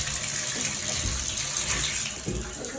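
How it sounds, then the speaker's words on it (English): A worn bathroom faucet runs steadily, water hissing and splashing continuously at close range with no talking. "you see how much water comes out the bottom?"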